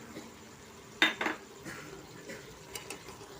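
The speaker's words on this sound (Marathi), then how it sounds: "तर आता हा राईस मी व्यवस्थित परतून घेतलेला आहे" Rice being sautéed and stirred in a pan for masala brinjal rice, with a couple of sharp utensil clanks against the pan early on and softer scraping stirs afterward over a low background hiss.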